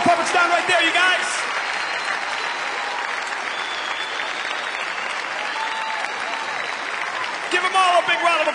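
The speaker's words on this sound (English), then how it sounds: "Give them all a big round of applause." A theatre crowd applauds a ventriloquist act and its puppets, sustained dense clapping that swells at the start and end, with a voice speaking over it.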